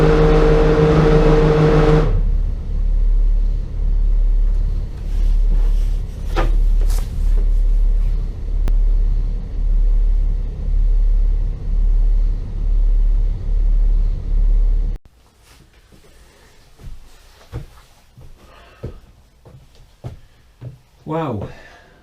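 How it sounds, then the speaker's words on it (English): A boat's bow thruster runs loud and close in a pulsing, rhythmic drone for several seconds before cutting out abruptly, leaving quieter wind and water noise behind. "I will use my bow thruster"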